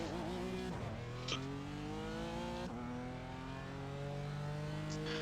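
GT4 race car in the iRacing sim at Mid-Ohio, engine climbing through the revs with two distinct upshifts, a steady droning tone that rises between gear changes, loud and continuous.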